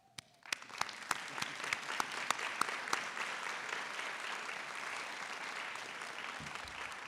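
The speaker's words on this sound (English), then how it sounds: "graduates, on your behalf, I would like you to give them a round of applause" Graduation ceremony audience at an optometry school breaks into steady applause, starting with scattered sharp claps that quickly swell into sustained, even clapping from a large crowd in a hall.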